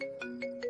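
A mobile phone ringtone from a Hindi-dubbed South Indian film plays as a bright, pulsing electronic melody, its short repeating tones steady and moderately loud, with no talking.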